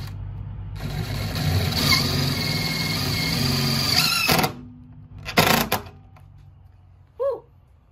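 A power driver whirs loudly for a few seconds as a self-drilling structural screw is driven into a joist hanger without pre-drilling, then stops, followed by a brief second burst and a few light knocks.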